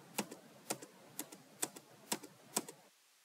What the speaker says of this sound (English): So it's gonna click on enter